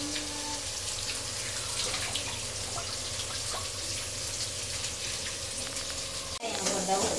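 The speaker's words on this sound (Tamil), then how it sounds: "பூண்டு தக்காளியும் போட்டு வணக்கிட்டு இருக்காங்க." Garlic and tomatoes, with ginger added, fry in a pan for a paneer masala, making a faint, steady sizzle throughout, then a sharp clatter near the end.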